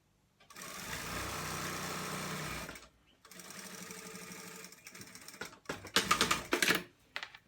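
A sewing machine stitches a seam on fleece track pants in two long steady runs, close and fairly quiet. A few sharper clicks and short bursts come at the end as the stitching is back-tacked.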